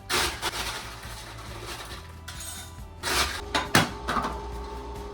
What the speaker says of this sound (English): We have this ice maker.